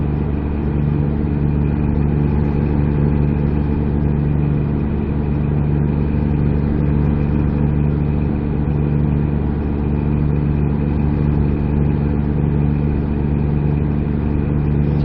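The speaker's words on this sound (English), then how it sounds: "listen to the purr of the engine, if nothing else" A truck engine purrs in a constant low drone in American Truck Simulator, with a steady hum and no voices or changes in pitch.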